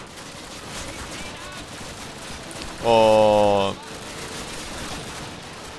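A short burst of rapid automatic gunfire in the video game Call of Duty, under a second long and loud over steady background game noise, with someone speaking briefly in German.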